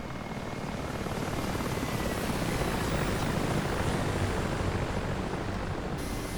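A Mi-8 helicopter flying in the DCS flight simulator game, a steady dense rotor and turbine drone with broad hiss, constant and moderately loud with no talk.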